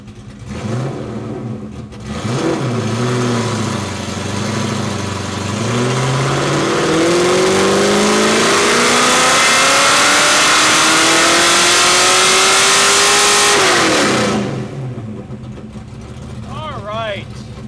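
A Ford Mustang Foxbody engine idles, then climbs through a long wide-open dyno pull. The loud, rising roar reaches a peak and then drops back to a burbling idle.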